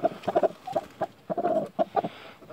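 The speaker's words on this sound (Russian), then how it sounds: "Куры вот купаются в земле. В гнездах сидят квочки, как всегда." Chickens and broody hens in a dusty farm coop cluck in short, repeated bursts, fairly close and moderately loud, with no talk over them.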